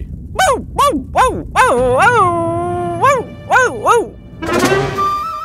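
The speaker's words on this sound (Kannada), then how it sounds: "ಇದು ನಾಯಿಯ ಧ್ವನಿಯ ಹಾಗೆ ಪ್ರತೀತಿಯಾಗುತ್ತಿದೆ." A dog barks close by in a quick series of sharp yelps, breaks into a drawn-out howl, then barks a few more times before a noisy burst.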